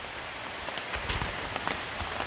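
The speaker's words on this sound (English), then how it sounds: "good thing I got this rain tarp on, but it is coming down" Heavy rain pours onto a rain tarp shelter at a solo campsite, a dense, continuous hiss with scattered louder drop patters, close overhead and steady, with no voices.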